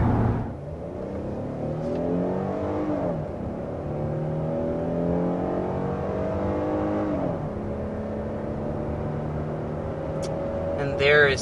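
A Hyundai Palisade's 3.5-liter V6, 290 horsepower, accelerates hard uphill to 60 mph on roads near Asheville, North Carolina, its engine note climbing through gear shifts with steady rising harmonics, heard from inside the cabin.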